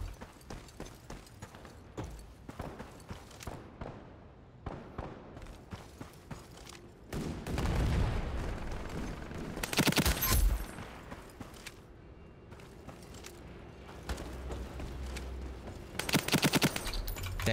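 Repeated automatic gunfire in Call of Duty: Modern Warfare 2, with fast rattling bursts that come and go and grow loud and dense in a few stretches, alongside other game sounds and no talk.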